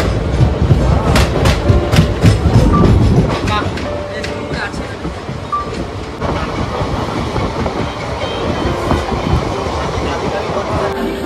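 The Howrah–Kalka Netaji Express runs on the rails with loud rhythmic clickety-clack of the wheels and rumbling carriage noise, heard from inside the train.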